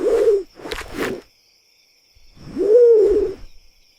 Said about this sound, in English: Owls are night birds with big, round eyes.